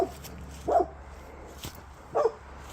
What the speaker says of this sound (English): Dogs hear me and they're gonna bark.